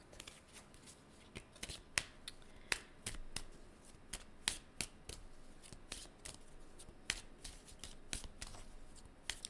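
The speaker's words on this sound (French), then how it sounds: "Je vais aller chercher une de mes cartes." Tarot cards being handled and shuffled up close, a run of crisp riffling snaps and flicks at an uneven rhythm over a quiet room, with no voices.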